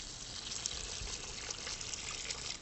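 Water poured by the scoopful onto a tomato plant in a home garden, a steady close splashing trickle for a few seconds with no voices.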